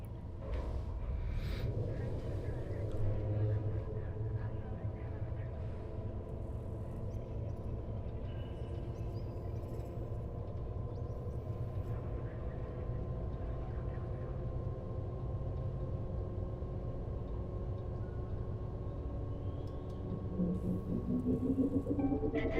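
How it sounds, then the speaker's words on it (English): Carrier frame shift drive engine spinning up aboard a fleet carrier in Elite Dangerous: a steady, loud low rumble with layered sustained hum and a rising whine near the end, continuous throughout. "Now we can hear the engine spinning up."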